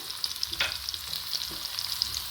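Cumin seeds and black peppercorns fry in hot fat for pongal, a soft, steady sizzle with small pops and a couple of light stirring taps, close by and without voices.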